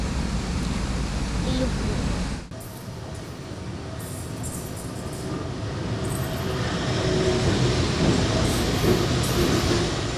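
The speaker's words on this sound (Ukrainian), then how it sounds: "І ось прибуває потяг до перемоги з 1400 пасажирами." A passenger train pulls into a station in Uzhhorod with a loud, continuous rolling rumble and rail noise. A sudden drop interrupts the sound briefly before the steady roar builds again, with crowd noise underneath.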